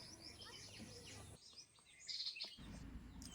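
Birds chirping in a forest in Jharkhand, faint high tweets and short calls over a low outdoor background, somewhat distant, with one brighter burst of chirps partway through.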